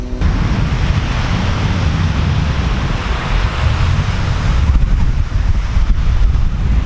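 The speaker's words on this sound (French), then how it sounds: "Le vent souffle offshore, c'est mort." Strong offshore wind buffets the microphone in a steady, loud roar, with a faint wash of surf underneath.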